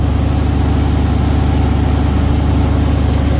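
A Nissan Patrol V8 engine running steadily just after its first start, a loud, close, even idle with a constant low throb and no talk over it.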